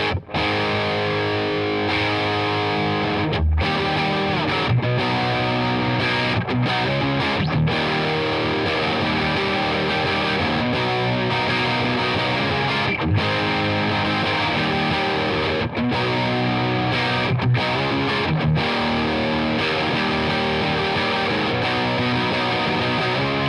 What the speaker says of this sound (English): we have the Shark, which is a Marshall style overdrive / distortion